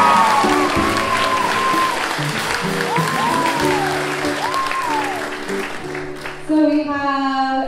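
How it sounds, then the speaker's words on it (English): Theatre audience applauding after a Sunday youth cast performance, a dense steady wash of clapping heard alongside music and sustained sung or played tones, with a rising burst near the end. "let's give them a big round of applause"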